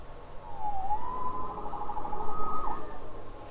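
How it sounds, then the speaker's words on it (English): A police siren wails in the Spider-Man video game, its rising and falling tone sweeping up and holding high over a low background rumble. "Saved by the siren."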